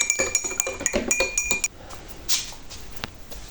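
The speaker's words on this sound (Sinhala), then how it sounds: "ඉතින් මේ විදිහට සීනි දාලා අපි හොඳට කලවම් කර ගන්නවා." A spoon clinks repeatedly against a glass while sugar is stirred into a blue butterfly pea herbal drink, the rapid bright taps giving way to a softer swirl of liquid and a few scattered late clinks.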